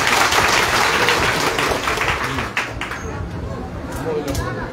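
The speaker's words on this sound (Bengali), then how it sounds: "জোরে করতালি হবে" A crowd claps loudly and continuously at a Zaker Party council in Joypurhat marking the women's front anniversary, a dense broadband wash of applause that eases slightly after a few seconds.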